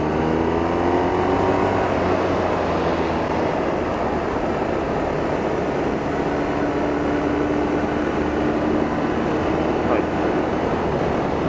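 A BMW R 1250 RS two-cylinder boxer motorcycle rides a winding road, its engine droning steadily and loudly with rising and falling pitch through throttle changes, wind rush blending throughout.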